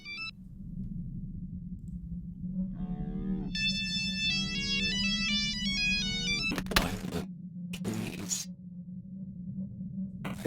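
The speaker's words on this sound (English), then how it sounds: "Here's a phone call from Will." Phone ringing in the horror video game Who's Lila?, a run of bright, stepped electronic ring tones over a low hum, followed by two sharp bursts of harsh noise, with a voice talking faintly beneath.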